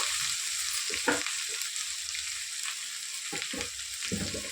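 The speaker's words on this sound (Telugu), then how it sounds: "కొంచెం కరివేపాకు వేసుకున్నాం" Curry leaves sizzle in hot oil in a pan while a cucumber and dried fish curry is prepared, a steady bright frying hiss broken by a few short low stirring knocks and clatters.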